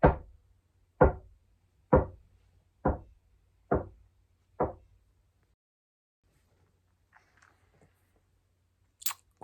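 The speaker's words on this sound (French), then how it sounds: "le bruit il avait fait toc toc toc toc toc contre le grand mur" Five or six sharp knocks against the large wall of a bedroom in a haunted castle, evenly spaced about a second apart and fairly close, followed by a near-silent stretch with faint scattered sounds.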